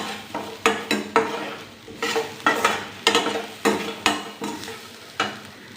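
Rice flour roasting in ghee in a pan, with a spatula stirring and scraping in a steady series of close, distinct strokes over a soft sizzle.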